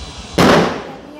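A single loud firework bang bursts suddenly and close, then decays into a crackling, fading tail during New Year celebrations.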